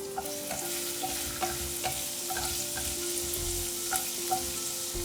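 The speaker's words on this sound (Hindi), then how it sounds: "ऑयल हमारा गर्म हो गया है और अब डालूंगी इसमें मैं बारीक कटा हुआ अदरक, साथ ही में जाएगा इसके अंदर बारीक कटा हुआ लहसुन" Finely chopped ginger and garlic fry in hot oil in a kadai with a steady, close sizzle and a few soft clinks of stirring.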